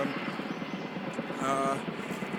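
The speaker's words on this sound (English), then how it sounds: "There's a helicopter." A helicopter passes overhead outdoors, its steady rotor drone moderately loud and continuous, swelling slightly midway, with no talk over it.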